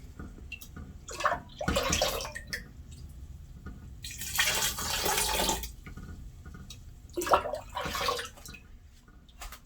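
Homemade apricot wine poured from a pot into a fermenting vessel, with a steady splashing stream that swells in three bursts over quiet gaps, close and moderately loud.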